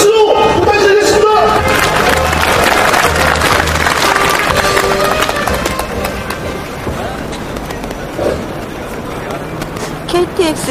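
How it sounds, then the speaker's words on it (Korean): A large crowd at a KTX privatisation protest rally applauds loudly and steadily at first, fading to a thinner patter with scattered cheers and voices toward the end. "위원회 동지의 힘찬 대사 힘찬 박수로 부탁드리겠습니다"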